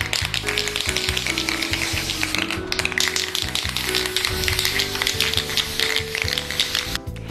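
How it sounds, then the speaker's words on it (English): A spray paint can rattles rapidly as it is shaken and hisses while coating a vase, the loud texture running continuously over background music. "Shake your paint and keep shaking as you spray to get a nice even coat"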